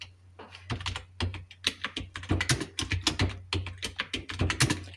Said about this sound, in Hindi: भयंकर शब्द टाइप हो जाएगा।